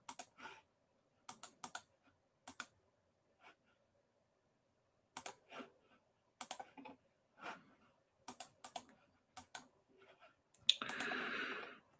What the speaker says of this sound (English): Oh, I'm clicking around a lot.